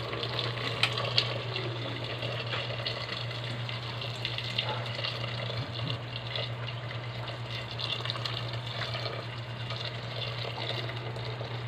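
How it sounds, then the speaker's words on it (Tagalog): Hot water poured into a cooking pot of chicken tinola with rice and cassava, a steady continuous splashing gush with a low hum underneath, fairly close and unbroken throughout. "Mainit na tubig na nilagay natin guys."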